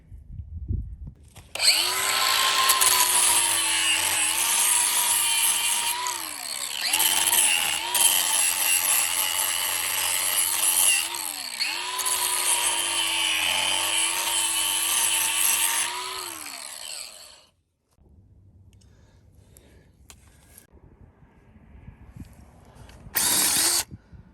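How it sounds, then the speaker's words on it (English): A power tool whines loudly for a long stretch, grinding and then drilling a new hole, with brief dips in pitch as it bites, then cuts out, leaving quieter rustling and a final short burst. "I'm going to have to do me some grinding here and drill a new hole"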